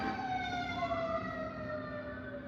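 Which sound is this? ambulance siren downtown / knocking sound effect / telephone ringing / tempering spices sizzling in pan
ambulance siren downtown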